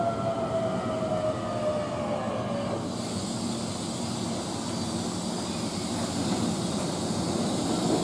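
A Keihan Main Line semi-express train bound for Yodoyabashi at platform 2 of Chushojima station, with a steady, loud rolling rumble and a high squealing tone that fades after a few seconds, continuing as sustained rail noise.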